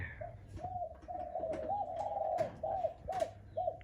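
A wild dove, a spotted-dove type kept as a calling bird, gives a rhythmic series of soft, near coos in clear repeated three-note phrases, with steady background hum and no talk.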